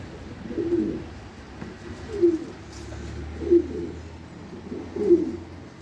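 Pigeons coo in their loft, making four low, throaty calls spaced a second or so apart, close and clear over a faint background hum.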